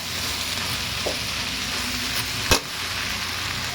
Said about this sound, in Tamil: இப்போ இதை நல்லா நாம் மிக்ஸ் பண்ணி கலந்துக்கலாம்.